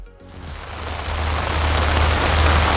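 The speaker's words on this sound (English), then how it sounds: "the howling rain on Friday morning made it a completely different story." Heavy, howling rain pours steadily over a classic scramble paddock campsite, a dense continuous hiss that builds slightly louder, with a low rumble underneath and no voices.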